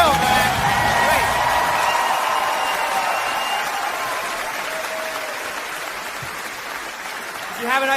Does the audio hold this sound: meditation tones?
no